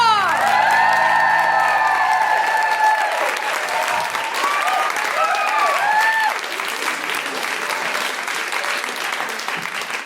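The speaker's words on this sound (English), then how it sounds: "Keep that applause going for the wonderful Susan Wokoma!" Live podcast audience at The Guilty Feminist bursts into sustained applause with cheers and whoops for a guest, loud and dense at first, then settling into steady clapping.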